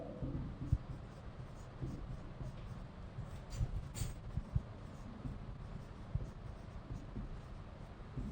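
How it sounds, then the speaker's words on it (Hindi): Chalk scratches and taps on a classroom board as a biology chapter title is written, a quiet run of short strokes with a soft room background. "मैं चैप्टर का नाम लिख देता हूं पहले।"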